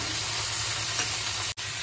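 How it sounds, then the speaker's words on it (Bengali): Vegetables fry in a pan as another vegetable is added, making a steady, moderate hiss of sizzling oil with a brief dropout near the end. "আমি একটা সবজি ভাজা হচ্ছে তার মধ্যে আর একটা সবজি দিচ্ছি।"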